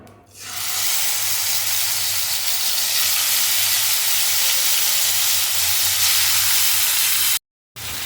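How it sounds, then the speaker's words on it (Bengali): Marinated chicken dropped into melted butter in a pan sizzles and hisses loudly and steadily, close up, starting after a brief quiet moment and continuing with a short gap near the end. "এবার এতে ম্যারিনেট করে রাখা মাংসগুলো ফ্রাই করতে দেবো"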